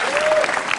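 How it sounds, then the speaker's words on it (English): Brief burst of studio audience applause on a late-night talk show, dense clapping heard at a moderate distance with no speech. "Hold for applause"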